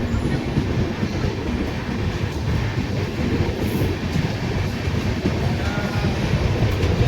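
A train pulls out of Balasore station on the Kolkata to Puri run, heard from on board as a steady, loud rolling rumble with faint rhythmic clatter of wheels on rail, with no voices.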